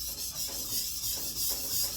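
A Stanley Bailey No. 7 plane sole rubbed in circles on a coarse diamond stone, a steady, close hissing scrape with gentle swells and no talk.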